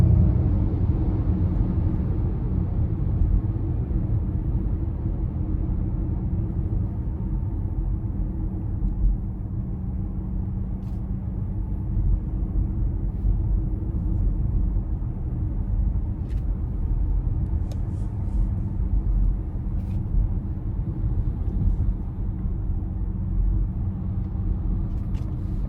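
A 2021 Ford Mustang Mach-E Premium accelerating, heard as a steady low cabin rumble of road and drive noise that holds constant throughout, no talk.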